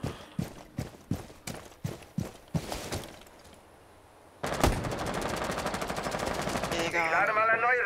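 Rapid bursts of gunfire in Rainbow Six Siege, a string of sharp single shots followed by a brief lull and then sustained automatic fire with mechanical clatter.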